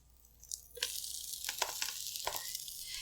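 A quesadilla fries in a pan, a soft, close sizzle with bursts of crackling and scraping as it is moved about, quiet overall and without voices.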